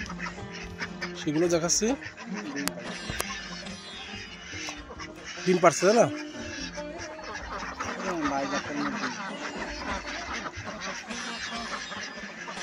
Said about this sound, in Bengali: এখন আমি আপনাদেরকে বেলজিয়াম যে হাঁসগুলো